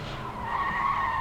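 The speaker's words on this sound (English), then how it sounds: "Mark Hallam coming around to do his reverse spin and enter the garage for the last time" A race car's tires skid through a reverse spin at a 1984 AMC Southlands motorsport event, a loud, steady screech held for a second or so over low engine rumble.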